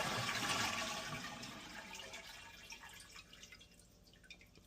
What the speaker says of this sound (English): Then we're going to give this a good flush and let this tank drain.